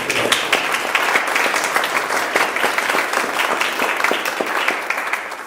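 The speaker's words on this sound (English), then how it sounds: "I think she deserves an applause" Members at an annual congregational meeting of a parish applaud a parish member, a full, continuous clatter of clapping from a room of people, strong and sustained without a break.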